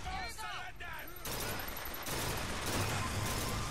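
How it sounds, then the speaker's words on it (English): Turret gunfire in the video game BioShock sounds as dense, rapid bursts of shots that swell into a sustained fusillade. A voice-like sound may briefly come through near the start. "what the fuck is shooting at me? Is that a fucking turret?"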